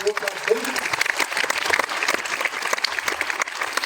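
Audience at a corporate training session breaking into applause, a dense crowd clapping for several seconds, with a voice heard briefly near the start.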